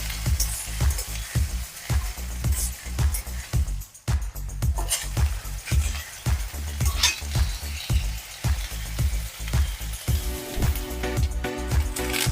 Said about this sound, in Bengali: পেঁয়াজটা দিয়ে ভালো করে ভাজতে হবে